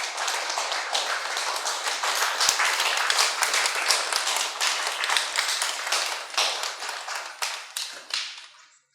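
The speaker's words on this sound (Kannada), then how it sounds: "ಸುನೀತಾ ಮೇಡಮ್ ಮತ್ತು ಜೋರಾಗಿ ಒಂದು ಸರ್ ಚಪ್ಪಾಳೆ ಹೊಡೆಯೋಣ." A large audience bursts into sustained, dense applause at a meditation talk, loud hand claps filling the room steadily before tapering off at the end.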